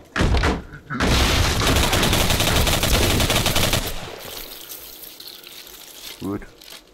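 Gunfire in the first-person shooter Singularity, a loud dense burst of rapid shots lasting about three seconds, followed by fading rumble and a brief sharp sound near the end, with no talk.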